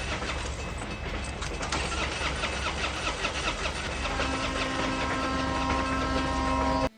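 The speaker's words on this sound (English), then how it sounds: "but the car won't start." A car engine cranks repeatedly without catching in a tense film scene, a continuous loud grinding churn that shifts into a sustained higher whine toward the end before cutting off abruptly.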